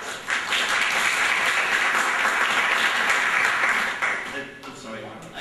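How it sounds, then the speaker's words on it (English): Applause from the audience at a state house district debate, a dense, sustained roar of clapping that swells quickly and then fades out, with a voice starting to speak at the end. "I just want to ask people to hold applause until this is all over."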